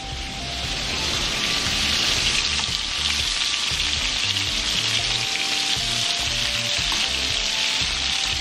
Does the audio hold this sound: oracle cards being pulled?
no